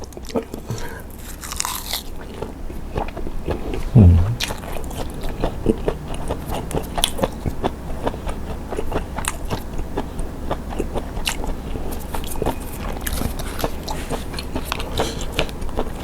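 Someone eating crunchy squid snack up close, repeated loud biting and crisp crunching chews in a steady rhythm throughout, with one sharp bite standing out early.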